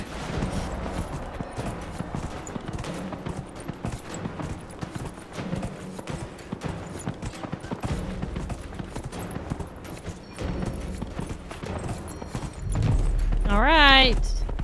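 Horse hooves clip-clopping at a fast gait in the video game Dragon Age: Inquisition, a continuous rhythmic patter over game ambience and a voice, ending with a loud whinny near the close.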